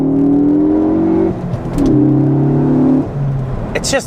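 A Ford Focus ST accelerates hard in second gear, its engine note rising steadily and loud from inside the cabin, easing briefly, then climbing again, with a short burst of rattling toward the end.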